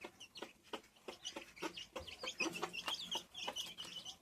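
A white hen clucks close by on a farm, giving a busy run of short, repeated clucks and squawks with no talking.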